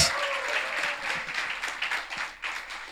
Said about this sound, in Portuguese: Uma salva de palmas para as meninas.